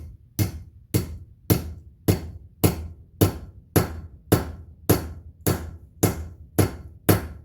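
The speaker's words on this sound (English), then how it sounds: "smash it with a hammer." Hammer striking a brass rivet to set it in a leather shoulder holster, eleven evenly spaced sharp metallic blows about every 0.6 seconds, close and loud with brief ringing decay.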